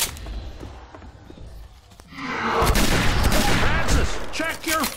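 Heavy gunfire in Left 4 Dead 2 co-op, quiet at first then a loud sustained barrage of rapid shots with shouted voices among the fighters.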